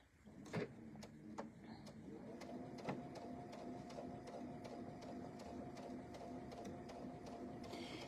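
A sewing machine with a J-foot stitches fabric around the curve of a fall pumpkin pillow, its faint, steady mechanical whir running continuously after a few clicks at the start.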